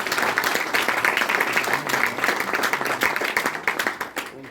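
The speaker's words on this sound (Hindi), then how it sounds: "सर के लिए एक बार जोरदार तालियां" Listeners at a motivational training session clap for the speaker, a lively burst of hand claps with distinct individual claps audible, fading and thinning toward the end.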